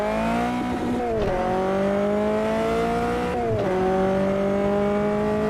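A racing car engine in Automobilista 2 drones loudly and steadily, with pitch dips at two gear changes before it climbs again, a throaty sustained tone.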